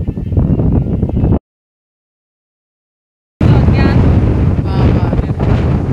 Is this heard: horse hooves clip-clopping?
no